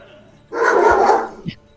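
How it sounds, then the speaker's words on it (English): A dog barks once, loudly and close by, with a short yip right after it, during a snowy tabletop fantasy game session. "The dog's cheering for you to die."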